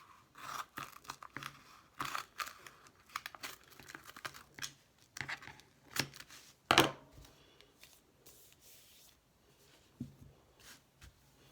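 Scissors cutting paper and tape on a personal journal cover, a run of close snips and crinkly rustles with a sharper crunch midway, then quieter handling, no talk.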